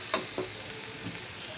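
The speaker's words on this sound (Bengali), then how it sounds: "এখন কিছু মশলা দিয়ে দিব।" Onion frying with spices in a pan, a soft continuous sizzle with a couple of light stirring scrapes near the start and a quieter one later.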